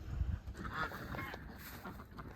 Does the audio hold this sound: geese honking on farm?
yes